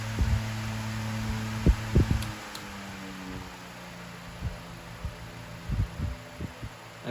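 A steady electric fan hum runs close by, a 9-inch Wind Devil fan with a PSC motor and dry bearings, broken by faint irregular knocks and soft thumps.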